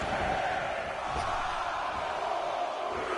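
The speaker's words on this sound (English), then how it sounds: "The crowd is counting it down." A wrestling video game arena crowd roars in a steady, loud wash of massed voices, chanting along as it counts down during a match, with no clear commentary over it.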